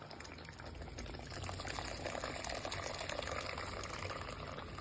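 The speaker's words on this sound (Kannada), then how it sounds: "ಬಿಸಿನೀರು ಕಾಯಿಸಿದ್ದೀನಿ, ಅದನ್ನು ಇದಕ್ಕೆ ಹಾಕ್ಕೊಳ್ತೀನಿ" Hot water is poured into a pulav masala, producing a steady, soft rushing and bubbling sound that swells slightly and continues throughout, faint and close, with no talking.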